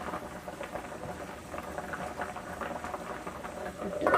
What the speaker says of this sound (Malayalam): നല്ലോണം തിളച്ചിട്ടുണ്ട്.